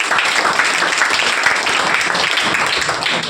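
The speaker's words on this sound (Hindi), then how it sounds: "जोरदार तालियां सर के" Loud, dense applause from an audience for a teacher at a gathering welcoming top-scoring students, a continuous wash of many hands clapping close by with no pauses.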